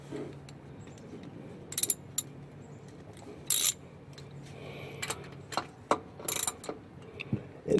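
Quiet, rapid clicking of a socket ratchet turning a drain plug on an aluminum oil pan of a Mazda Miata MX5, with short bursts of sharper ratcheting between softer mechanical ticks.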